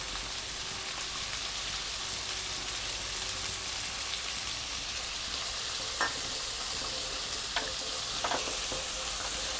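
Two medium onions, finely chopped, sizzle and fry steadily in a pan for a palak paneer bhurji, a continuous bright crackle with a few sharp stirring clicks near the end and no talk.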